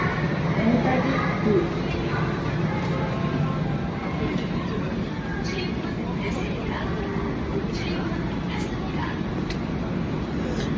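A Seoul subway train in motion, heard from inside the carriage as a steady rumbling drone with faint clatter, while people talk over it throughout.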